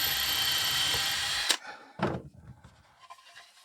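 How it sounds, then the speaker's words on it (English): Power drill boring gently through a wooden game piece resting on a backing board, whining steadily for about a second and a half before stopping, followed by a couple of knocks and handling sounds close by. "Drill through gently."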